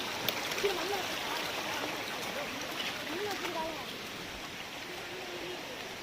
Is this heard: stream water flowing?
yes